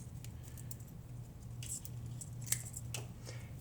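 Flower stems snipped at a 45-degree angle for a wedding floral arrangement, a few faint crisp cuts over a low steady hum, one sharper snip standing out near the middle.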